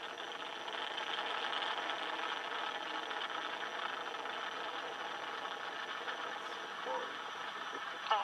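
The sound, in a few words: SLS rocket launch, four RS-25 engines and two solid boosters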